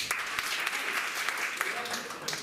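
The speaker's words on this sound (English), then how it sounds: "Clap your hands for me if you've never been to WIT before." Audience clapping hands at a student improv theater showcase, a brief burst of dense, steady applause from a room of people.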